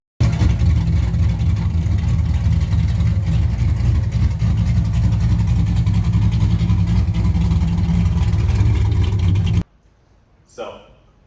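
Modified race car with ported heads, an intake, full exhaust and an aggressive cam idles and revs loudly with a choppy, rumbling low note, sustained close up for nearly ten seconds before cutting off, followed by a brief faint sound.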